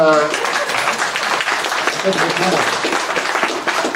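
Conference audience applauding in a hall in Alençon, a dense, steady wash of many hands clapping that holds loud and continuous through the whole stretch.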